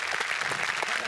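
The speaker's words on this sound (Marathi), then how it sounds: "आपण त्यांचेही जोरदार टाळ्यांनी स्वागत करूयात" Studio audience at a Marathi comedy show applauding to welcome the visiting team and guests: a fairly quiet, even wash of many hands clapping, steady throughout, with no speech.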